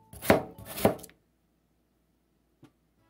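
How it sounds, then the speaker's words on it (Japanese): A knife cuts through onion on a board: two close, crisp strokes, then silence and a faint tap, all quiet and close. "まず玉ねぎを薄切りにします。"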